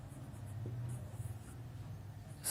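Faint, soft scratching of chalk or a marker writing on a classroom board, a quiet continuous scrape with a low background hum and no speech.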